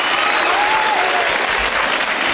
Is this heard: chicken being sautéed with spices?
no